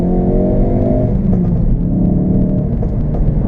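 A Ford Focus RS exhaust rumbles and revs steadily close by, a deep continuous engine drone with a slight rise in pitch and some crackle, heard alone without voices.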